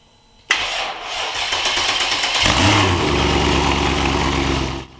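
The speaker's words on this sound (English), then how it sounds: "The engine just started up just like it would regularly start up in a car." A Mercedes E55 engine cranks and catches loudly after a brief quiet lead-in, then settles into a steady, rumbling idle that runs to the end.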